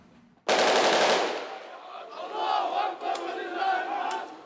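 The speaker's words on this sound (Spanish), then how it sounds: "Entre dos ráfagas de disparos" Rapid bursts of gunfire crack loudly at a funeral procession, followed by a crowd chanting and shouting together in rising and falling waves.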